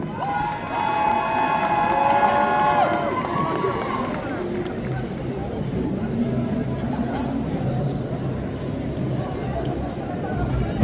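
An audience at a cosplay parade at the Japan Tours Festival cheers and claps as a loud, continuous crowd roar. An announcer's amplified voice and background music play over it.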